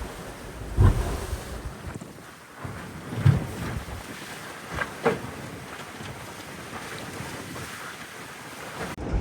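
Strong wind roars across the microphone aboard a sailboat alone at sea in a big sea state, with waves surging and slapping against the hull in irregular heavy gusts and no voices.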